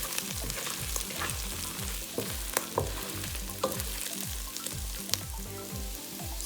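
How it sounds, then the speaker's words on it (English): Onions and eight Kashmiri chillies sauté in a pan for Goan beef roast, giving a continuous close sizzle and crackle under repeated rhythmic stirring and scraping. "we add 8 Kashmiri chillies, and then you saute that well as well"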